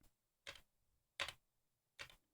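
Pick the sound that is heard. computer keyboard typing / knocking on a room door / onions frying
computer keyboard typing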